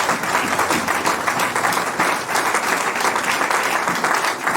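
A church congregation claps continuously in praise during a worship service, a dense and steady wave of applause that stays loud and even from start to finish with little talk.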